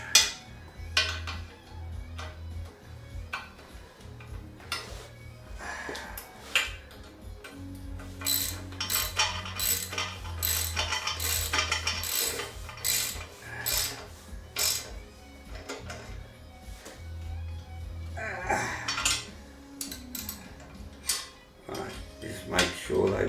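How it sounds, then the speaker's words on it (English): Wrench tightening bolts underneath a Triumph 765RS Moto2 sit-on motorcycle motion simulator during assembly: a rapid ratcheting tick in short runs, mixed with metallic clinks and handling noises, fairly close and moderately loud. "I want to go underneath so I can tighten it with a wrench"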